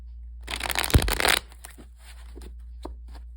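A deck of tarot cards being shuffled up close, a quick papery riffle followed by a few soft taps and slides.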